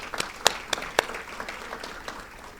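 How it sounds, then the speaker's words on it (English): Sparse, scattered clapping from the audience at the City of Rosenberg State of the City 2020 address, a few sharp claps standing out before thinning into light, fading applause. "you can applaud that."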